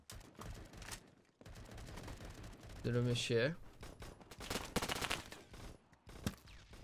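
Bursts of rapid gunfire crackle in the middle of the Roblox game Phantom Forces, with someone speaking briefly over game noise before and after.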